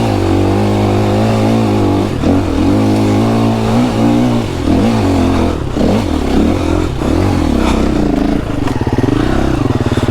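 A 2025 KTM EXC-F dirt bike's single-cylinder engine revs up and down in snow, loud and close, with repeated throttle blips and a choppy, rising and falling bark.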